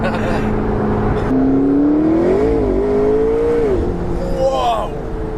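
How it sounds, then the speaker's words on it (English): A McLaren 650S Spider accelerates hard, its engine note climbing and wavering through a rising whine, loud and near, with people talking over it. "The car took off."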